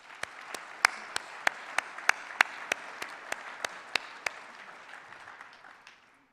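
Applause at the AMA House of Delegates honoring former Radiology Caucus members: a few distinct, evenly spaced sharp claps ring out over a softer clapping bed, then taper and fade near the end.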